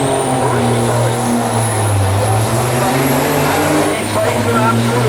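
A Sisu truck roars down a drag strip at a truck racing event, its loud, sustained engine drone steady throughout with a commentator talking over it.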